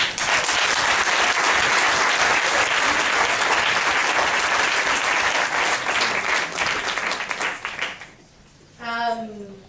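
Audience applause at a university book launch: dense, loud clapping from a crowd for about eight seconds, fading out before a voice speaks.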